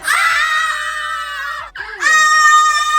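Several girls scream loudly together as a prank, a sustained shrill high-pitched shriek that breaks off briefly and then resumes just as loud.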